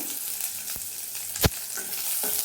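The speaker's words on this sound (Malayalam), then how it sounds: "കുറച്ച് സമയം വഴറ്റിയെടുക്കാം" Shallots sautéing in a pan for a Kerala-style dish, a soft, continuous sizzle with light stirring and one sharp utensil knock midway.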